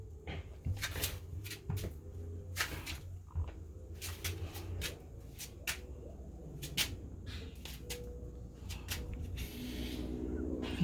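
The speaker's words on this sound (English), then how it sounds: "Now let's open the door" A door being opened indoors, with a series of sharp knocks, clicks and creaks spread irregularly over a quiet background, fairly close and moderately faint.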